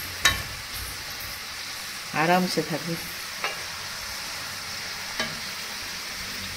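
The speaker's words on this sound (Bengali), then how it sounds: "একটু ভালো করে ভেজে নিতে হবে।" Chickpea pakoras fry in hot oil with a steady, even sizzling hiss throughout, joined by a few faint clicks of a utensil. A voice speaks briefly partway through.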